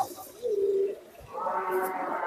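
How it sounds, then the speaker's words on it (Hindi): A Rampuri high-flying pigeon coos twice in low, throaty rolls, close by, with a faint murmur of background noise. "ये है रामपुरिया कबूतर।"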